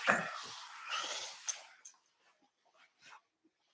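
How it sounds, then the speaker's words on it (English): A dog whimpers and snuffles close by, with breathy whines fading into short soft yelps, mostly alone and faint. "No, don't cry for Maggie. Come here. Come here, pup"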